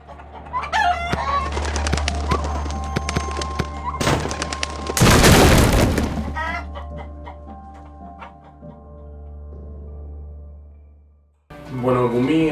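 Mutant chickens in a video game cluck and crow loudly over a busy game soundtrack, with a harsh burst of noise midway and more squawking calls at the end.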